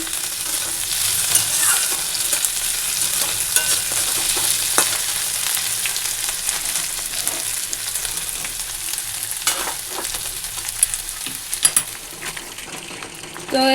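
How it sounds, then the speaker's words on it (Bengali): Garlic, potatoes and green chillies sizzle and crackle steadily in hot oil, with occasional stirring scrapes and clinks close by, no talking. "রসুন আলু আর কাঁচা লঙ্কা দিয়ে একটু ভাজা করে নিচ্ছি"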